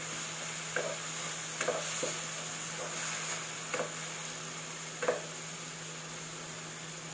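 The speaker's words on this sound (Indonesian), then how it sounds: "Tumis sampai bumbunya matang." Spice paste with bay and lime leaves stir-fries in a pan, a soft continuous sizzle broken by a few faint scrapes and stirs, close and quiet with no talk.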